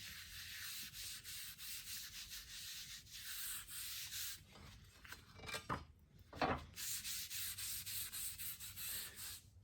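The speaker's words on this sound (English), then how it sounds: "we're just going to spread it out with our bit of Scotch-Brite" A red Scotch-Brite pad scrubs paint stripper across the metal of a Scott Bonnar 33 mower being restored, making a steady, close, rhythmic abrasive rubbing with a few clinks midway.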